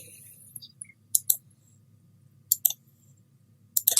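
Crisp, close clicks from a computer mouse during drafting in AutoCAD come in small pairs and clusters, spaced about a second apart over a quiet background hum.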